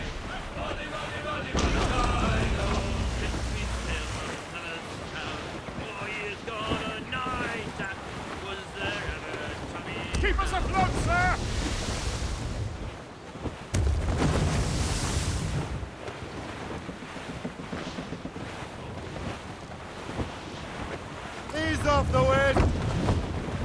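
A sailing ship runs at full sail through open sea in Assassin's Creed Rogue, with wind and waves surging across the deck, gusts rising and falling. A voice shouts commands over the rush of water.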